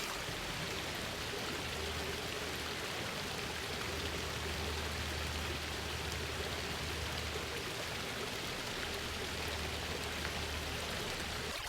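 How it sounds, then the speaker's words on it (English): Water splashes and trickles steadily in a recirculating garden pond feature, a constant close-up wash of falling water with a low hum under it and no voices. "now it's just a recirculating water feature"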